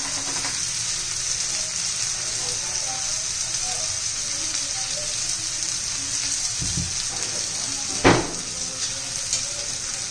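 Okra and potato frying in a pan give a steady, close sizzling hiss that runs unbroken, with a brief utensil clink near the end.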